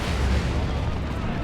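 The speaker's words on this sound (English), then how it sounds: "Is that a rocket run? That is a rocket run." A rocket run strike in the Dawn of War 2 game pounds down as a dense, continuous roar of explosions and booms, loud and unbroken throughout.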